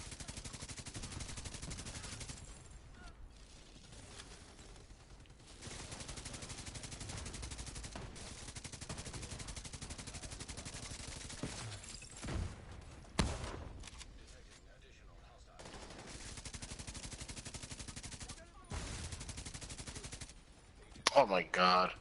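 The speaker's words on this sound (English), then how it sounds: "Who's shooting me?" Sustained gunfire from The Division 2 runs as a dense, steady wash through most of the stretch, breaking off briefly several times. A few sharper bursts stand out near the end, and voices are heard now and then.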